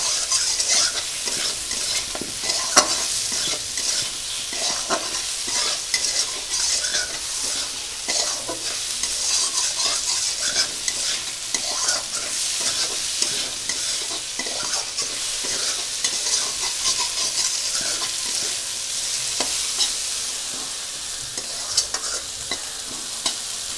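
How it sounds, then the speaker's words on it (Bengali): Potato pieces fry in hot oil with onion, black cumin, cumin and garlic, a steady close sizzle running throughout with frequent scraping stirs and spatula clicks, no voices. "এবার আমি আলুগুলো একটু ভেজে নেব। পেঁয়াজ, কালো জিরে, সাদা জিরে, রসুনের সঙ্গে।"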